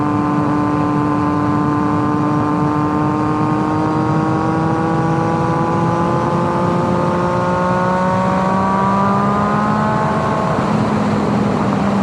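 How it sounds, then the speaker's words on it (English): Triumph Daytona 675R sport bike, a 2011 model fitted with a Werkes exhaust, riding at steady speed: a loud, continuous high-pitched engine howl with smooth gear-held tones that rise gently, then drop slightly near the end over constant wind roar. "I can tell this Werkes exhaust is pretty"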